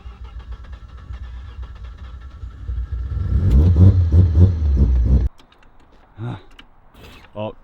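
A Mazda RX7 sits on a jack while being repositioned, a low engine rumble rising to a loud, rough idle with mechanical creaks before cutting off abruptly, followed by faint brief knocks.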